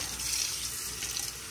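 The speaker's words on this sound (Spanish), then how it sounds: "Ponerle agua aquí a la licuadora para que no se vaya a pegar." Water pours in a steady, close, gentle stream into a kitchen blender holding cooked tomato, briefly and without talk.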